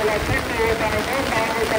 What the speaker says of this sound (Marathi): आणि भर पावसातून वरवडे गावचं रूप बघा.